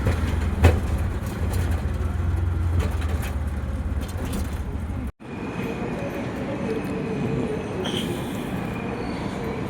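A Churchgate-bound fast local train at Virar railway station in suburban Mumbai, with a continuous loud rumble of rail cars and wheels on track, a brief break midway, then steady running noise with occasional squeal.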